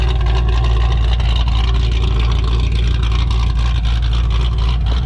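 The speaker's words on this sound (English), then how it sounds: "My dude Hunter with his nasty GTO, listen to this thing." A Pontiac GTO engine runs steadily nearby, giving off a loud, continuous low rumble with a slight rhythmic throb that holds constant and never rises into revving.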